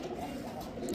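Pigeons coo steadily inside a crowded loft, a low continuous murmur of many birds close by with no talking; the flock includes Lahori, Shirazi and Giribaz breeds.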